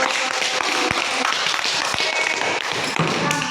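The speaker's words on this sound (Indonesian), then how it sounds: "Tepuk tangan dong buat kelompok 1." Children in a primary classroom clap together for a group of classmates, a dense burst of many quick hand claps with a few louder thumps, close and continuous throughout.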